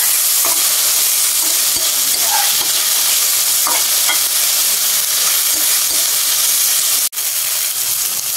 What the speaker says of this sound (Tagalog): Igigisa lang po natin ito.